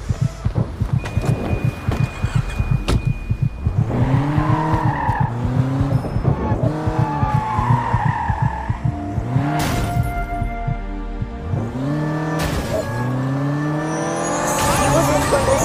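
Car engine in a video game revving and shifting pitch as it drives, with tire skids, loud and continuous over background game sounds.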